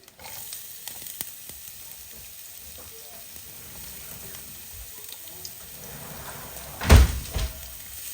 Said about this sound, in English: So just first off, few onions going in.